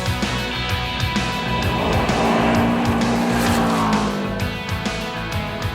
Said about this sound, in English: Most of the drivers pushed their cars to the limit on this stage.